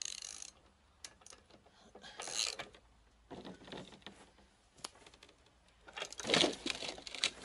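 A 30 mm wrench ratcheting while removing parts from a Traction 11 car: bursts of close, dry clicking and mechanical rattling separated by quieter gaps, with no talking.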